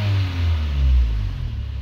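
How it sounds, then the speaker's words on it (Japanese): A Honda Civic Type R EK9 with a Fujitsubo exhaust starts and revs, giving a loud, close, low engine rumble that swells briefly and then settles toward idle. "ではちょっとエンジンかけてみたいと思います。"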